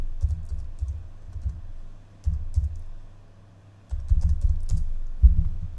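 Fingers type on a computer keyboard in quick, close bursts of key clicks with brief pauses between runs.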